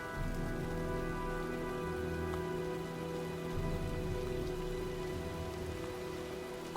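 Steady rain falls during a storm in the video game Heavy Rain, a constant wash of drops on a hard surface with a faint tonal hum underneath and no breaks.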